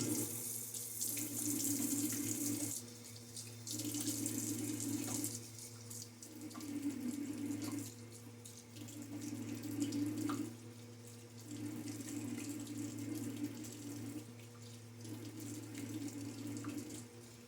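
A water tap runs into a sink for rinsing after a wet shave, a steady close rushing stream that rises and dips in loudness as hands pass through it, with no voices.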